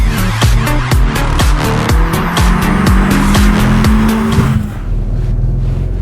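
Lowered BMW E46 Touring with coilover suspension jumping and landing, giving a series of loud, evenly spaced thumps and rattles over a steady engine drone that fades near the end.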